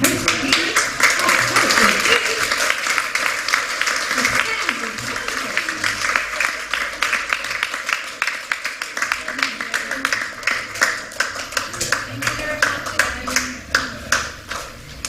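An audience at a unions choir song party claps at length, a dense wash that settles into more distinct, rhythmic claps, with voices talking underneath.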